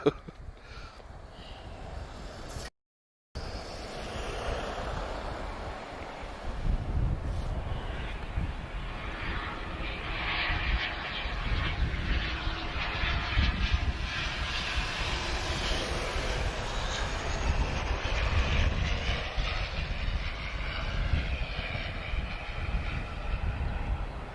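A rising, roaring jet rush builds and holds as an aircraft lands in a stiff crosswind at Lisbon Airport, heard from a distance after a brief dropout, with no talking.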